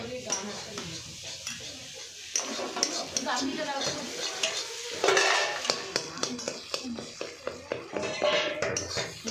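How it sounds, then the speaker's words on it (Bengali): Eggs fry in a pan, with a soft sizzle under busy metal scraping and stirring, plus quick rhythmic clinks of a utensil against the pan's side, close and fairly loud. "ডিম ভাজা হচ্ছে ডিম দেখতেই পারছো তোমরা এখানে ডিম ভাজছি আমি"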